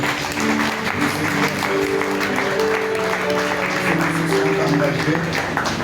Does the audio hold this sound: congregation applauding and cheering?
yes